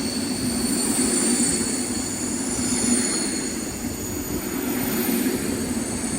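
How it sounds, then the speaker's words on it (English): Steel train wheels squeal loudly and continuously on the track at Harringay Green Lanes, a steady high screech over a rumbling rolling-stock roar, close by and unbroken. "listen to that screeching!"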